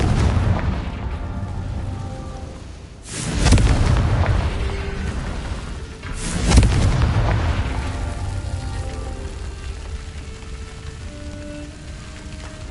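Two heavy booming blasts, a few seconds apart, erupt over a rumbling crackle as the Confringo fire spell explodes in Hogwarts Legacy, each blast fading into a scattered rain-like patter.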